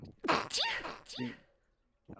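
A close, breathy sneeze burst with voiced vocal sounds around it, then quiet before a brief sound at the end.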